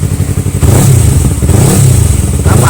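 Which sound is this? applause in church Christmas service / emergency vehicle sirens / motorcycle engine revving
motorcycle engine revving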